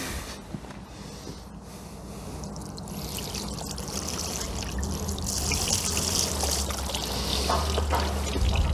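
Water runs and trickles down the door seal channel of a leaky MK2 Volkswagen Scirocco during a hose leak test, a steady pouring wash that grows slightly louder.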